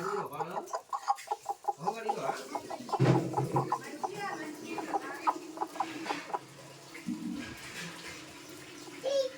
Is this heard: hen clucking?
yes